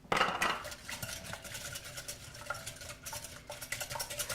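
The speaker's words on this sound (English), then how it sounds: "blend that up a little bit. The batter is going to be fairly thick." Thick batter being stirred in a bowl, with utensil scraping and clinking against the sides in quick uneven strokes, close and fairly loud, with no talking.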